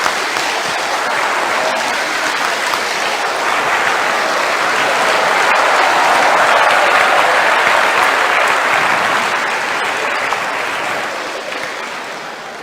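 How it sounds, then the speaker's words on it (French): Sustained applause from a large audience giving a standing ovation at an award ceremony in Yamoussoukro, a dense wash of clapping that swells toward the middle and fades slightly at the end. "Un standing ovation"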